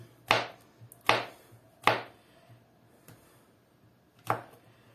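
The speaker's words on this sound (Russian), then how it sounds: "Сейчас грибы мелко порежу." A knife finely chopping champignon mushrooms on a board, four crisp, close chops spaced roughly a second apart, with quiet pauses between them.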